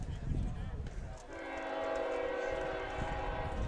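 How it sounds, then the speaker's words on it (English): A train on a track beside a baseball field sounds its horn, a sustained multi-tone blare starting partway through and holding steady, preceded by rumbling from the rails and faint crowd murmur. "And they have a train track nearby."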